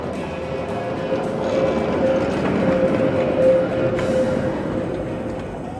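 A tram rolls along a street in Odesa near the railway station, giving a steady loud rumble with a faint tonal whine across the whole stretch.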